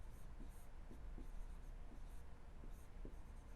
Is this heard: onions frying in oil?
no